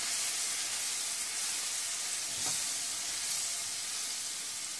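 Potatoes and yogurt for dahi aloo cook in a pan over a low flame, giving a soft, even sizzle and hiss, quiet and steady, with one faint scrape midway.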